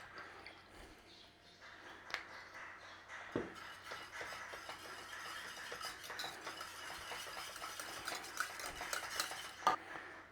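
Welsh rarebit sauce is stirred in a pan, quiet scraping and tapping of a utensil against the pan that grows into a busier, rhythmic stirring with occasional clinks, faint and close, without talk.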